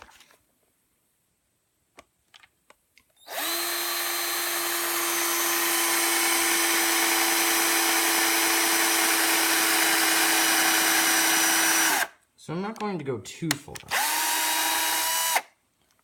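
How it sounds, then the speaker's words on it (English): A power drill drilling into wood whines continuously for several seconds, stops briefly, then revs up in a few short bursts; someone speaks quietly during the pause. "Alright, so we've got our bit and our drill"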